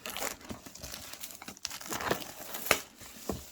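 Sealed plastic wrap being torn and crinkled off a Pokémon Elite Trainer Box, close crackling with sharp rips and a few louder tears, no talk.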